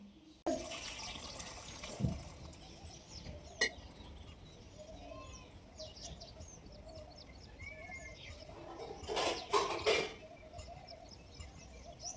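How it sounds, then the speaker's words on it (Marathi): Water is poured onto a tulsi plant outside a village home, giving soft splashing and trickling that swells in short bursts. Birds chirp nearby, and there are a few knocks, all fairly faint with no talk. "आता तुळशीला पाणी घालून येते"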